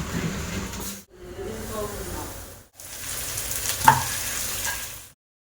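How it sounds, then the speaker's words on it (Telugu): Tomato pieces frying in a pan with onions, curry leaves and ginger-garlic paste, a steady close sizzle that cuts out twice in short gaps, with one sharp metallic tap near the end. "ఇప్పుడు ఇందులోని కరివేపాకు అల్లం వెల్లుల్లి పేస్ట్ వేసి పచ్చివాసన పోయిన తర్వాత అందులోనే టమాటో పీసెస్ కూడా యాడ్ చేసేసుకొని అవి సాఫ్ట్ గా మగ్గేంత వరకు కూడా ఫ్రై చేసుకోవాలి"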